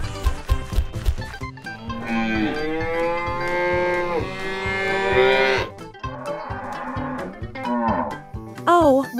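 Cattle moo loudly and close by, with one long, drawn-out bellow followed by shorter, wavering lows, while dull knocks and thumps of movement tick along underneath.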